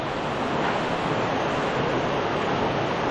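Water pours out of a large natural spring in Quezon, a dense, steady rushing roar heard close and unbroken with no voices.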